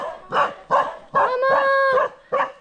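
Several dogs bark and howl close by in a run of loud, punchy barks with one drawn-out howl in the middle, sounding agitated and near.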